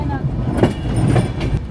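Madhumati Express LHB coaches pull out of Ishwardi Junction, a steady low rumble of the moving train with a few sharper clanks and bumps, while a voice talks over it.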